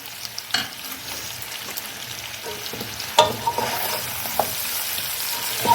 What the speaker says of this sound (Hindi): अब इस टाइम पे मैं इसमें डालूँगी 2 बड़े काटे हुए टमाटर, मैं इसमें ऐड कर दूंगी।